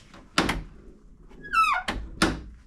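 A classic Mini car door worked in a workshop: sharp clunks from the latch and door check, a squeaky creak as the door swings, then firm closing thumps, close and clear with no talking.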